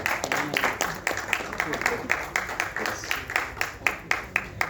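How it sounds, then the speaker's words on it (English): Audience applause at a trailer launch event, a rhythmic run of claps with fairly distinct individual strikes, moderate in level and continuing steadily throughout. "Let's give a round of applause for Kushal Kulkarni."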